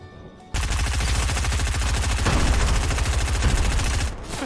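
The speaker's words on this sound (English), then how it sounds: "Man, your gun is still firing." A gun firing nonstop in Fortnite Chapter 2, a dense rapid automatic stream of loud shots that runs for several seconds after a quiet start, with no talking over it.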